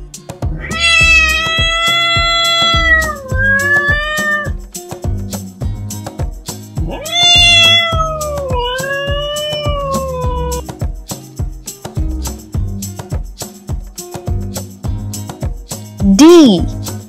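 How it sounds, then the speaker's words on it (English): Two long, drawn-out cat meows over a steady rhythmic music beat, followed by a short, higher meow near the end. "And the sound of the cat is..."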